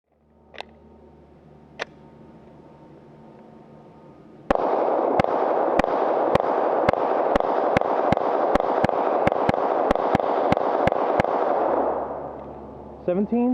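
Rapid-fire pistol shots from a Smith and Wesson M&P 9mm at an outdoor range, two isolated shots first, then a long, steady string of about seventeen loud, evenly spaced reports under a constant roar of wind or ambient noise.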